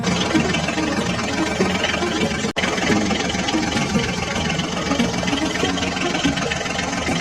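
Toy HMT and Ford tractors run with a dense, continuous engine-like drone that is loud and steady. There is a single brief dropout partway through, and no voices are heard.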